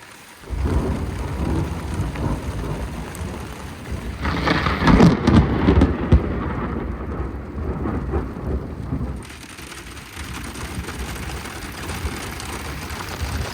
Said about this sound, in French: On vient de se prendre une averse de malade là.